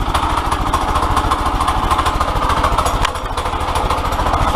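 A Predator 212cc engine mounted on an ATV quad runs loud and close, a continuous rapid chugging with a fast, even firing rhythm and one brief dip partway through.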